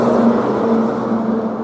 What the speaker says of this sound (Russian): Зараза, эти машины задолбали.